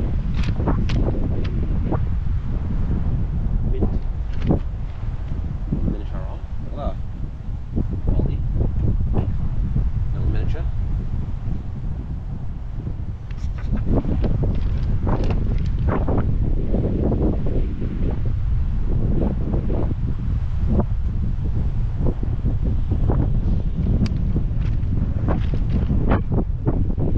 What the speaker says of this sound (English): It's a little bit more windy today than it was yesterday.